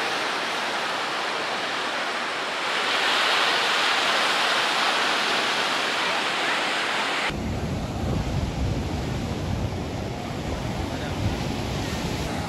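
Ocean waves break at a beach in a broad, continuous rush of surf, close and loud, with a slight swell in intensity partway through and a shift in tone near the end.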